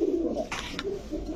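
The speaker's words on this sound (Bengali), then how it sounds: "কবুতরের ডাকা দেখেন ভাই" Domestic pigeons at a market give a low, rounded coo close by, with a brief brighter call midway through the short stretch.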